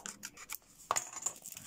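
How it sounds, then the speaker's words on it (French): Scissors snip along the edges of a paper card for a chocolate-bar greeting card, giving a few short, close, crisp cuts and light rustles with no talking. "on va couper un peu les bords pour pouvoir plier"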